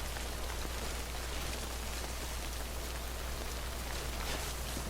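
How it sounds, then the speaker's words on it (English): Timefall rain in the Death Stranding video game pours steadily with a dense, even hiss of drops, constant and fairly quiet with no breaks, under a low rumble and without any voices. "Don't stay out in the rain any longer than you have to."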